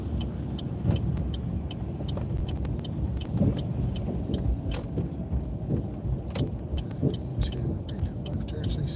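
A car drives slowly through dark streets at night and makes a cautious turn, heard from inside the cabin as a steady low road and engine rumble with scattered light clicks.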